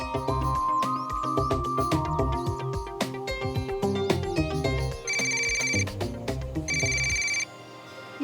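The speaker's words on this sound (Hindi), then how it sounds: "अब मुझे फोन कर रहा है।" A telephone rings in repeated bright electronic bursts, loud and close, layered over a busy musical background that drops away near the end.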